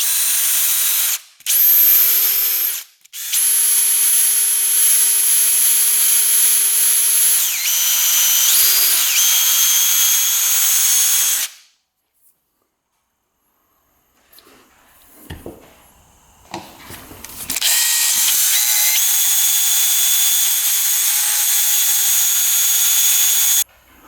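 A power drill spins a plastic brush, scrubbing the surface of a Kubota diesel UTV. Loud, steady whirring comes in two long bursts with brief stops. A quiet gap with faint rustling follows, then the drill whines on again, with no talking.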